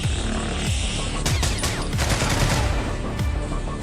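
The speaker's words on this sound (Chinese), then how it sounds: "枪声惊醒了所有海盗" Loud, dense automatic gunfire in a movie firefight between pirates with AK rifles and Navy SEALs crackles in overlapping bursts and rattling volleys, continuous and close throughout.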